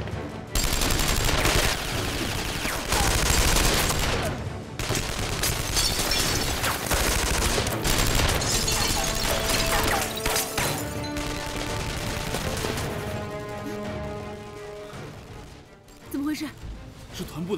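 Gunfire in a war film, dense bursts of machine-gun fusillade and rifle shots crackling loudly and almost continuously, with voices talking over it and a quieter stretch near the end.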